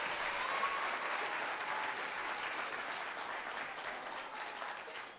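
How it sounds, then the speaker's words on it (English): An audience at a Sunday family show claps in a dense, steady round of applause that holds loud for several seconds, then eases off slightly toward the end. "Everybody give Hayden a big round of applause."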